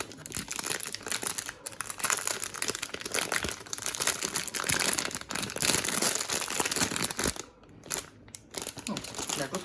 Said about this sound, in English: there's a plastic wrap on it as well